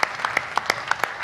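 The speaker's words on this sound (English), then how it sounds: "please give us a warm round of applause for our special guest, Chris Blackwell, the founder of Island Records" A brief burst of audience applause greets Chris Blackwell, founder of Island Records, at a Reggae University session during Rototom Sunsplash; the individual claps are close, sharp and fairly sparse.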